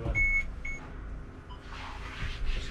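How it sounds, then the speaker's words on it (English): A DSC alarm on a boat's VHF radio gives two short, shrill electronic beeps at the start, followed by quiet cabin background noise. "I think we've got a DSC alarm going off on the VHF"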